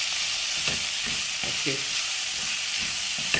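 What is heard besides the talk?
cooked vegetables frying in masala for upma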